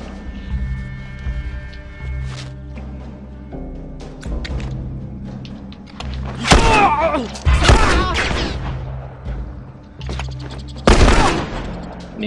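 Gunfire in The Last of Us, heard as several loud close bursts and bangs among quieter game sounds, with a player talking in between.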